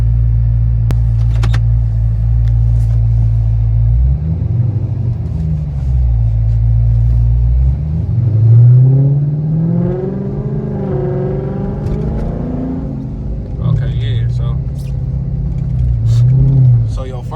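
A Hellcat Chrysler 300C engine rumbles deep and close, rising and falling through several throttle blips and revs, while someone talks over it.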